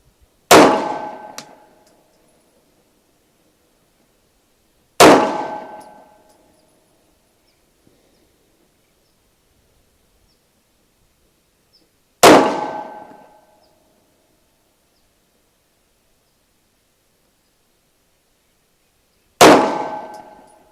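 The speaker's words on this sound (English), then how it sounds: "8 shots downrange" Pistol rounds from a Smith & Wesson M&P Shield 9mm striking steel targets, four sharp ringing clangs spaced several seconds apart, each with a short metallic decay, loud against near silence.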